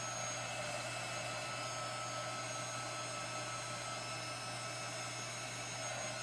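Steady, even whir of a hair dryer blowing on a chalk-painted homespun flag craft, a continuous airy drone with a low hum underneath, heard close up and alone with no pauses.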